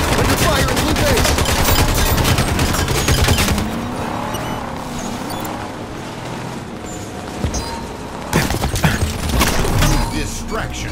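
Sustained Halo 5 Big Team Battle firefight with dense bursts of gunfire and explosive crackle, loud throughout, easing briefly in the middle before a fresh heavy volley near the end, with game voice callouts mixed in.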